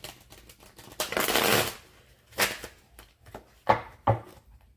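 Tarot cards are shuffled by hand at a live reading demonstration, giving bursts of riffling and soft slaps with pauses between them, close and fairly clear.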